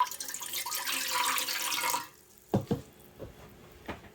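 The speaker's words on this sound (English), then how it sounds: "And I'm going to add a little more water to that." Water runs briefly into the metal pot of a Ninja Speedi pressure cooker with a hissing flow, then stops, followed by a few light clanks and knocks.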